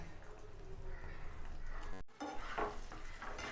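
Bread halwa being stirred in sugar syrup in a pan, with soft close scraping and a low bubbling sizzle, faint overall and broken by a brief drop to near silence in the middle.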